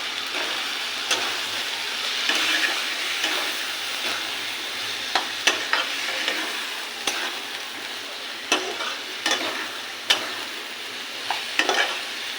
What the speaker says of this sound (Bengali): আলু পেঁয়াজটা ভাজা হয়ে গেছে দেবো বেঁচে রাখা মশলা দেব পরিমাণ মতো লবণ জিরে গুঁড়ো হলুদ গুঁড়ো লঙ্কার গুঁড়ো কষিয়ে নেবো